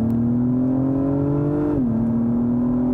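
A 2021 Acura TLX Type S at full throttle, a loud steady engine drone rising in pitch, then briefly dipping at a gear change before climbing again, heard from inside the car with no voices.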